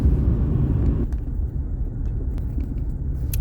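A car drives along a snowy road near Dnipro, its tyres and engine making a steady low rumble that eases slightly after the first second.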